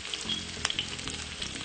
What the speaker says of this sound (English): So basically, I'm stir frying up.